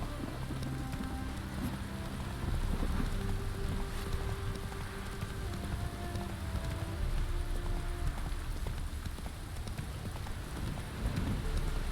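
Horse hooves gallop in the video game Witcher 3 during a horse race, a continuous rapid clip-clop layered under steady background music and ambient noise.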